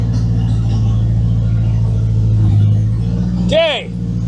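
An old-school Toyota car engine idles with a low steady rumble, then lifts and drops slightly as it pulls away; a short squeaky sound rises near the end.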